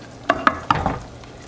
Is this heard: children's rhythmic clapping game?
no